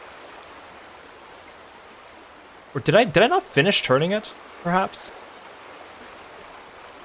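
Water flowing from a valve in The Vanishing of Ethan Carter, a steady soft rushing hiss throughout, with someone talking briefly over it partway through.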